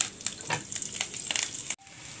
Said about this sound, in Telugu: ఆవాలు చిటపట్లాడుతున్నాయండి